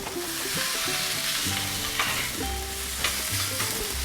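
Freshly flipped hash browns fry on a hot griddle with a loud, constant sizzle, while a background melody with shifting tones plays underneath.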